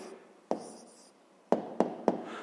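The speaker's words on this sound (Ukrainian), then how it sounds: "Ну що ж, записуємо відповідь" Pen on paper writing out the answer to a fifth-grade pool-filling maths problem: close, dry scratching strokes with a few sharp taps, heard alone without talk.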